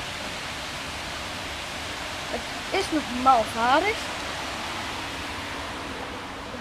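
River water rushes steadily past the Opwetten water mill, a coal, saw and oil mill on the Kleine Dommel near Nuenen, with a broad constant wash throughout and someone speaking briefly in the middle.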